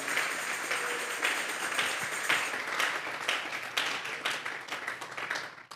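A church congregation claps hands together during a worship service, a dense, steady wash of many palms that carries on without a break for several seconds and fills the room at moderate loudness.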